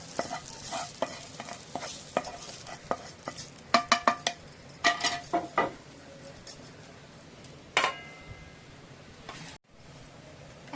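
Roasted masala is scraped and scooped from a pan with a metal spoon, giving a string of close clinks and scrapes against the metal, then a brief sharper knock and a few quieter scrapes.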